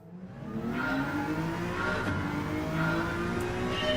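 Porsche race car in Gran Turismo 7 accelerating hard out of a corner, its engine note rising steadily and loudly for the full stretch, with a faint tire squeal mixed in and no talk over it.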